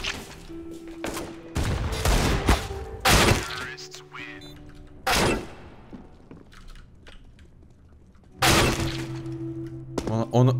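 CS:GO gunfire in a competitive match bursts out in sharp, loud rapid volleys separated by quieter stretches, with a voice talking over the game sounds.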